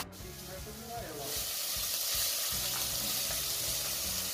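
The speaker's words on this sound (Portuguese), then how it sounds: "Fatiar ela e volta ela para a panela. Para ela dar uma dourada nessa parte aqui." Sliced linguiça sausage browning in a frying pan gives a continuous, moderately quiet sizzle. It swells slightly partway through, with soft crackles and stirring noises throughout.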